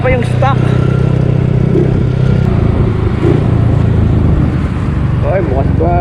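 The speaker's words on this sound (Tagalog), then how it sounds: "Kung matetesting nyo siguro ngayon yung motor ko, ayan oh, walang ka power." A Yamaha Mio motorcycle with all stock parts idles and runs loudly and steadily up close, with someone talking over the engine.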